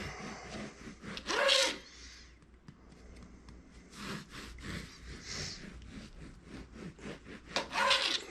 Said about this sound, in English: We're going to cut this into thin bread slices.